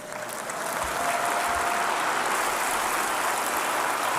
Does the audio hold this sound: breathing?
no